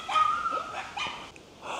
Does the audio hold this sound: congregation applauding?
no